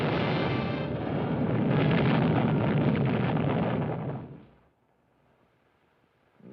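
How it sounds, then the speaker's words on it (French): A huge explosion rumbles out for about four and a half seconds, broad and roaring, then cuts away to near silence, a cinematic sound effect from a 1950s flying saucer attack film. "Ensuite, une explosion formidable."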